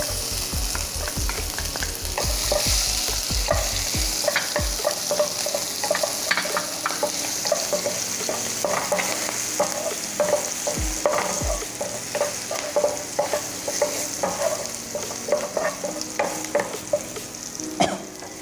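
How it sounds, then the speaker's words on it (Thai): Chili and garlic stir-fry in hot oil in a pan for noodles with canned fish, a continuous close sizzle with rapid scraping and clanking of the spatula throughout, no speech. "ผัดพริกกระเทียมของเราให้หอม"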